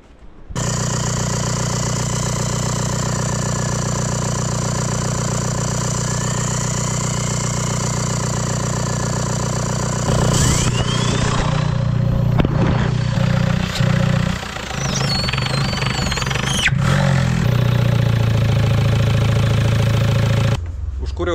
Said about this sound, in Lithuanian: Užkūriau variklį